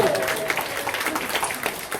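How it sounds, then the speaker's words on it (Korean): A church congregation in Chungju applauds together, a dense, steady patter of many hands clapping that holds at a moderate level throughout without fading. "우리 천지인 장모님께 아주 함께 박수를 보내도록 하겠습니다"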